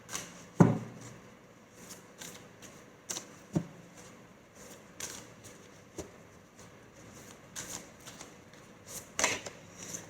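Tarot cards shuffled and drawn, heard as scattered soft riffles and taps spread over the span, with one sharper snap near the start and a few later, quiet and close with no talk.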